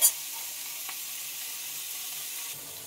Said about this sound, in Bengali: এইভাবে একটু নেড়ে চেড়ে নেবে।